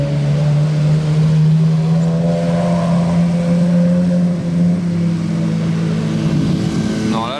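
A convoy of supercars drives past on wet roads in the rain in Monaco, producing a loud, sustained engine drone with a deep steady tone that swells and fades slightly as the cars go by.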